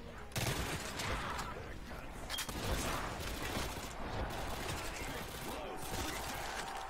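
Rapid bursts of MP5 submachine gun fire in Call of Duty World at War Zombies, crackling automatic volleys repeating across the whole stretch with mechanical clicks, fairly quiet overall.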